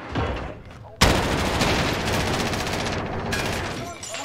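Rapid automatic gunfire in the video game Call of Duty Modern Warfare, a loud continuous burst of shots starting with a sharp crack and rattling on steadily, with players talking over it.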